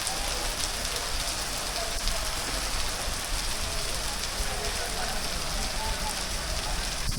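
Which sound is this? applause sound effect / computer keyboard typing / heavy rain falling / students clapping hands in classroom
heavy rain falling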